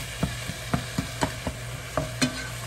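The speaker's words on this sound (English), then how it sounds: "while that is sauteing, I got that heat up high" Food sautéing in a pot over high heat, a constant sizzle broken by about nine regular scrapes and taps of a utensil stirring, close by with no voices.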